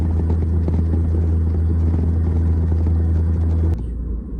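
Loud engine drone inside a car cabin during a test drive, a heavy steady low rumble that carries on continuously, then drops in level near the end.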